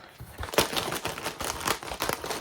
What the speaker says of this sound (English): if you hear paper crinkling, the cat came in and she has found the box